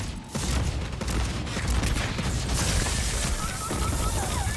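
Dense, rapid gunfire crackles in the video game Aliens, a sustained fusillade of overlapping shots with mechanical clatter filling the whole stretch, close and loud.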